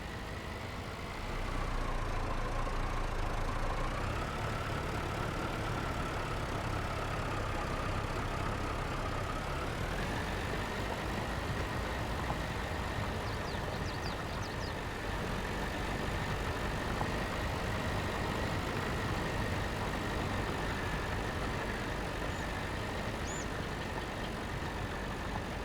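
A tractor engine in Farming Simulator 22 works a field, droning steadily and loudly throughout, its pitch stepping up partway through as the load or throttle increases, with no talk over it.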